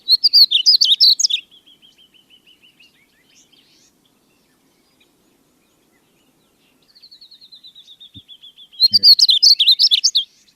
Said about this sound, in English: That is the song of a small bird called a painted bunting.